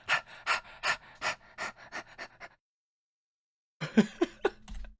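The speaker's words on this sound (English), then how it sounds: "You could actually hear dogs panting in the back of the track." Rapid, rhythmic panting from dogs in the background of a music track, a quick burst of breaths, then a pause before another flurry of panting resumes.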